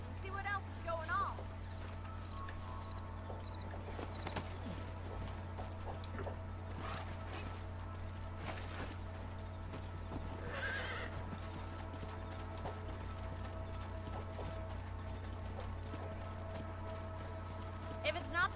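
Horse hooves clip-clop steadily with an occasional neigh in the Red Dead Redemption video game, set over a constant low hum with game music and someone talking throughout.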